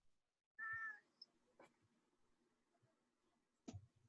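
A house cat gives a single clear meow near the start, close and fairly loud, followed by quiet room noise and a few soft clicks or thumps, with no one talking.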